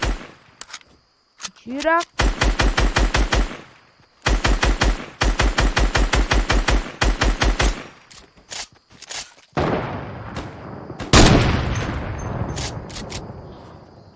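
Rapid bursts of video game gunfire, repeated automatic volleys with short pauses between them, loud and close, followed by a heavier blast and noisy rumble, with a player speaking briefly.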